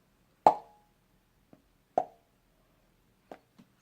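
A few hollow mouth pops made by flicking a finger out of a puffed cheek, the first and second loud and clear, with softer smaller pops between and after, each short and isolated in quiet.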